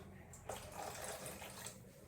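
A faint, steady stream of water pours into a pot, a soft continuous splashing rush.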